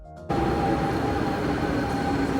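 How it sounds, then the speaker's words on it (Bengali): A double-decker train bound for Disneyland Paris pulls in, its loud, steady rumble with a droning mechanical hum starting abruptly after a brief quiet moment and continuing throughout. "ডিসনিল্যান্ড যাওয়ার জন্য ডাবল ডেকারের ট্রেন চলে এসেছে"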